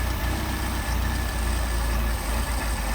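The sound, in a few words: engine idle stumbling while adjusting Solex carburetor mixture screw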